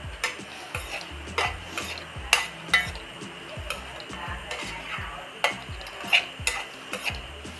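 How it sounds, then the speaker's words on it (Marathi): Onion and tomato roasting in a pan for matar paneer masala: a spatula scrapes and taps in a steady rhythm over a soft, continuous sizzle, with no talking. "असं टोमॅटो पण भाजून घ्यायचं व्यवस्थित."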